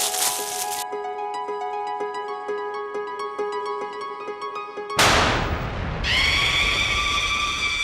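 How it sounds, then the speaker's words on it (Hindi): A small firecracker goes off in a sudden sharp bang after several seconds of tinkling tonal chimes, followed by a hiss and bright ringing tones. "मैंने दुकान वाले से कहा था एक छोटा सा पटाखा रख देना"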